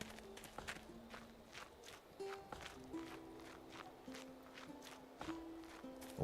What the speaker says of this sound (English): Oh, it's some good footstep noises.